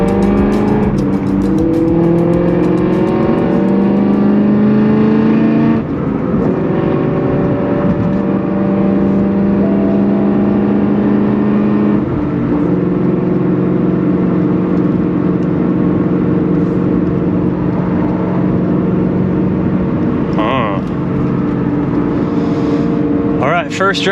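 Car on its first test drive after a new, stiffer suspension install, engine droning steadily with shifting pitch as it accelerates and cruises, loud and close throughout, with brief spoken remarks over the engine.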